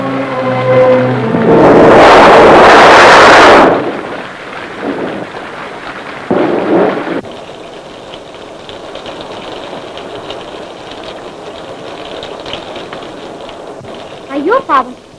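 A loud thunderclap with rain in a Tamil period drama scene: a heavy burst of thunder crashes early, then steady rain hisses in the background while people talk.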